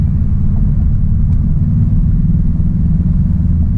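A 2020 Volkswagen Jetta GLI with a DSG transmission accelerates hard, heard from inside as a loud, steady low engine rumble and drone that holds for several seconds without talk.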